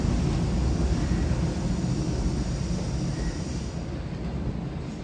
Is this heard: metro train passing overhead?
yes